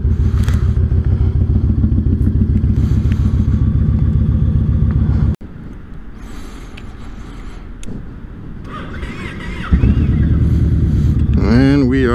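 A Yamaha Raider motorcycle rumbles loudly and close through a U-turn, its engine a steady deep drone that suddenly drops off midway to a quieter idle with some clatter, then swells back to full throttle near the end.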